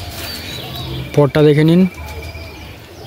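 Pigeons kept in a loft in Ranihati, Jolakanduya, coo under a man's brief speech, with one clear, loud, rising call about a second long standing out near the middle.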